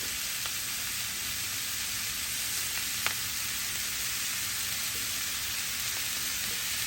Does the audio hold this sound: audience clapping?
no